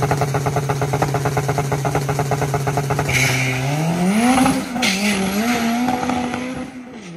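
A turbocharged 7th-generation Honda doing a pass: a loud, rapid engine drone that rises into a high rev climb, with a brief shift break and a whistle near the end, close by and without talking.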